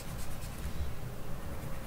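A pencil strokes lines onto paper while a spherical perspective drawing of a building is being reinforced, making a soft, close scratching that lasts under two seconds.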